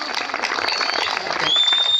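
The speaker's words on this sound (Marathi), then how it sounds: "एकदा टाळ्या वाजवा" An audience at a devotional talk gathering claps in a dense, continuous burst of applause that runs for a couple of seconds, with a faint voice mixed underneath.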